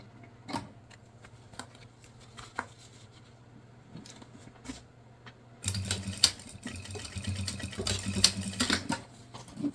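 A sewing machine runs a short backstitch along the top edge of a small fabric Easter basket, its rapid mechanical clatter starting abruptly after scattered quiet taps and continuing loud and close to the end.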